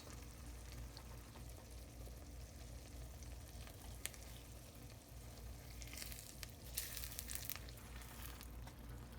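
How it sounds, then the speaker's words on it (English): Beaten egg cooks over chorizo in a pan, giving a soft continuous sizzle close up with a few brighter crackles and stirring scrapes toward the end, with no talking. "we'll let that cook a little bit before we start mixing the egg around"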